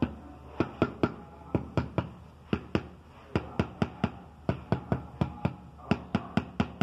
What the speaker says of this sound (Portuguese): Cadê tá, minha marreta de borracha aqui?